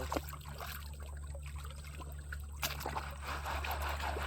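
Water swirls and trickles in a gold pan during outdoor gold panning, a steady low wash of sloshing with brief splashes, fairly close and with no talking.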